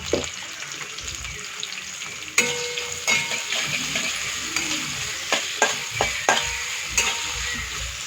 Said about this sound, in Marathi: त्याच्यामध्ये कांदा लगेच फ्राय होतो